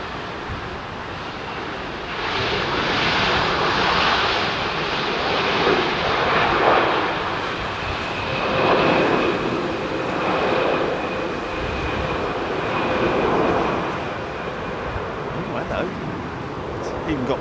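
An MNG Airbus A330 freighter lands at London Heathrow, its engines giving a continuous broadband roar with slow surges and a faint tonal whine, steady and fairly loud throughout, while a person talks over it.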